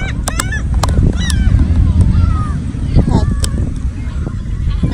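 Geese honking at a beach, several short nasal calls scattered through the stretch over steady wind and surf noise, with a voice speaking briefly nearby.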